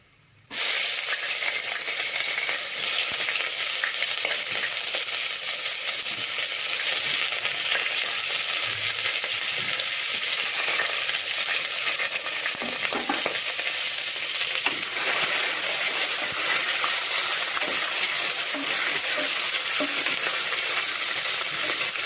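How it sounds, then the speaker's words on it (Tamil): Onions and whole spices, clove and cinnamon, fry hard in hot oil for chicken biryani, making a loud, dense, continuous sizzle and hiss close by for the whole stretch, with faint stirring scrapes underneath and no voices. "வெங்காயத்தை வந்து நல்லா கலர் மாறுற அளவுக்கு நல்லா வணக்கிக்கோங்க"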